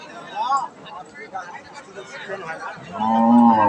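Thin, bony cattle at the Ambari livestock market low with rising, drawn-out calls, the loudest moo coming near the end, amid close talking and background crowd chatter.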